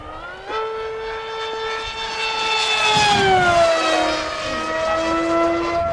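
A fast scratch-built RC plane flies past with a high, whining electric-motor tone that climbs and then drops in pitch as it sweeps by, fairly loud and close, with no voices over it.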